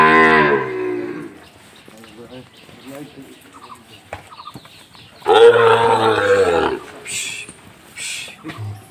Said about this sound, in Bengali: শাইওয়াল বাচ্চা সেরা মানের ব্র্যান্ডের গরু